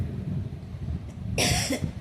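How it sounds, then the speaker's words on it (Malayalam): A single sharp, close cough from someone with a mild fever and cough bursts out after a quiet stretch of room tone. "എനിക്ക് ചെറിയ പനിയുണ്ട് കേട്ടോ. പനിയും ചുമയൊക്കെയാണ്."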